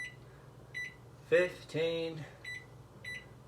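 An oven timer gives several short electronic beeps as its buttons are pressed, faint to moderate in level, spread at uneven intervals, while a person talks close by.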